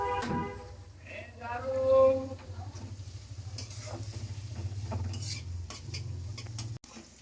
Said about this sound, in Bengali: এখানে গাজর, পেঁয়াজ আর কাঁচামরিচ একসাথে ভেজে নিব।